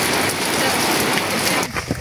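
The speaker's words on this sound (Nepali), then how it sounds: "पानी पर्यो साथीहरू पानी" Rain comes down steadily outdoors at a hilltop temple site near Maipokhari in Ilam, a dense, close hiss of falling drops with a brief unsteady patch near the end.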